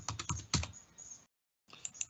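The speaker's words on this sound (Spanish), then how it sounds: "y se debe digitar la contraseña" Password being typed on a computer keyboard: a quick run of close, crisp key taps in two bursts separated by a brief silence.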